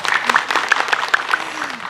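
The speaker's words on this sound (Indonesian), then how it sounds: "tepuk tangan yuk" Women of a majelis taklim group from Sukabumi clap as a studio audience on an Islamic religious program, a loose patter of hand claps with a voice briefly audible underneath.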